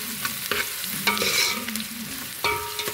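Curry leaves, ginger, green chilies and mustard seeds sizzle and crackle in hot oil while being stirred in a pan, with sharp spitting pops over a continuous frying hiss, close and fairly loud.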